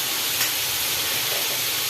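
Onion paste sizzles steadily in a pan as it cooks down for soybean bhuna, a continuous close, fairly loud hissing fry with no talking.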